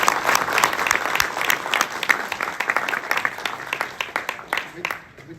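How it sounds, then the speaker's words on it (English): Audience applause in a hall for a graduation from the University of Oxford. The clapping is dense and steady for about five seconds, with some crowd noise mixed in, and it thins toward the end. "Can we have a round of applause for that?"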